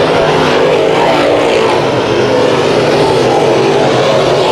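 Dirt track modified race cars without fenders race at Kings Speedway, a loud, dense, unbroken engine roar close by for the whole stretch.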